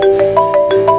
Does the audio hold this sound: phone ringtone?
yes